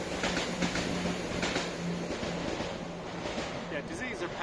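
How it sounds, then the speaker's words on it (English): A train rolls past a garden plot with steady broadband rumble and faint rhythmic clatter throughout, a person talking over it at moderate distance. "Wait for the train."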